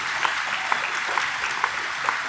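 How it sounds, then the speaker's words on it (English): A steady round of applause from a crowd of endurance obstacle-race participants gathered at a post-event brunch, dense and even, with a few louder individual claps popping through. "Round of applause for yourselves for everything you did in 2023."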